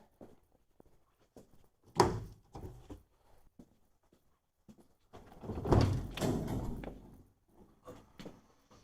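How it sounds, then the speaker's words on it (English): A semi truck's hood is pulled open on a frozen day, with scattered clicks and knocks, a heavy thump, then a longer grinding, creaking swing of the hood followed by lighter rattles. "For now, we'll get this hood open."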